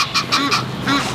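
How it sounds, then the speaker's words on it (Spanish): Ducks near a bridge in London give a quick run of four or five nasal, honking quacks, close and fairly loud. "Hay unos patos teniendo una fiesta en este momento."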